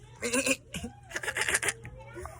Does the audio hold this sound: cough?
no